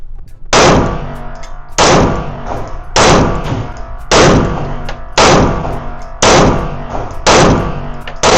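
Pistol shots at an outdoor shooting range, six loud sharp reports fired at a steady pace about one per second, each followed by a short ringing decay.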